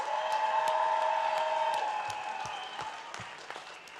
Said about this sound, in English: Can we get a huge round of applause for our volunteers?